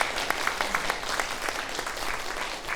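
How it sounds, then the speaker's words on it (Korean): A church congregation at Sunday worship claps to welcome a member and her newly married daughter; moderately faint, somewhat sparse applause with distinct individual claps standing out, no talk. "박수로 환영하겠습니다"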